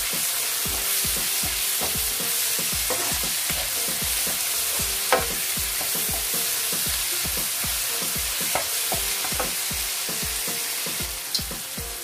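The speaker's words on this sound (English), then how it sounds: "I'm just gonna put little bit of salt to cook the onion faster. So fry it for another 3 or 4 minutes." Onions frying with salt in a pan, a loud, steady sizzle with rhythmic scraping of a spoon or spatula stirring throughout and a few sharper knocks against the pan.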